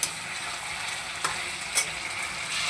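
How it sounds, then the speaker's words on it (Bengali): Ginger, cumin and green chilli paste sautéing with vegetables in a pan for a vegetable fish curry: a steady close sizzle and frying hiss, broken by a few soft stirring clicks. "এবারে মশলাটাকে কিন্তু সবজির সাথে কষিয়ে নেব"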